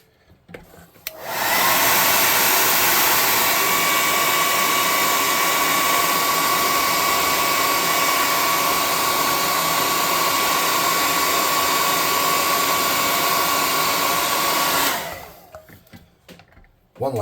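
A hair dryer blows over a freshly painted tabletop miniature, switching on with a click and running loud and steady for about thirteen seconds with a constant whine, then cutting off.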